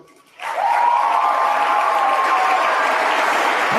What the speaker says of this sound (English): It was all thunderous applause.